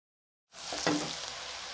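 Spices sizzling in hot oil in a pan while being stirred for a Hindi mix vegetable sabzi, a soft frying hiss starting abruptly after a moment of silence, with a brief scrape of the spoon, fairly quiet and close.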